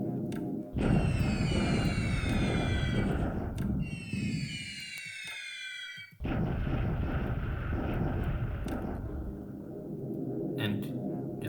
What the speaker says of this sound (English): each side sends some strike aircraft to bomb this hex